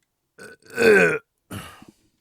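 A loud, drawn-out belch from a man on a quiet suburban street, opening with a short guttural burst, swelling into one long rasping eructation and ending in a brief second burp.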